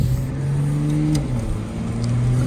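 Toyota GR Supra MK5 2024 with its 3.0 engine heard from inside while driving, a steady close engine drone with a note that shifts pitch partway through as it pulls, loud and continuous with no talk.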